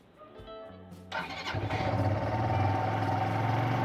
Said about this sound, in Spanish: y probamos a darle arranque.